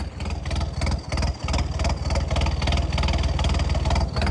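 A tractor engine runs steadily in heavy rain, its loud low rumble chugging evenly with a slight pulse and no pauses.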